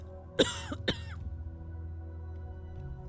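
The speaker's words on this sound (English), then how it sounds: "If it weren't for her cough, I might not have noticed her." Two short, sharp coughs from a woman close by in a dark fantasy video game, half a second apart, followed by a quiet low hum in the background.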